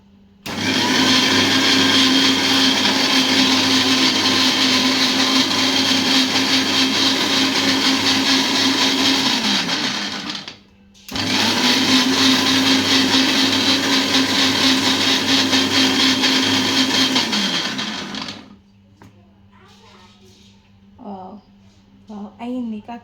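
Kitchen mixer grinder at home, two long loud bursts of droning motor whir, each about eight seconds and spinning down at its end, separated by a brief pause, followed by quiet with faint clinks and a few soft voice sounds.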